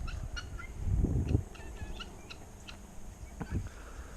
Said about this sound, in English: Look at this chicken's over here eating your stuff.